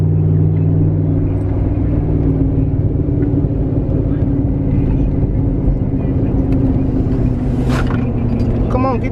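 A big diesel pickup on 26-inch wheels and 35-inch tires, towing in tow haul mode, holds a steady loud engine drone with high revs and a constant rumble, and a voice talks over it.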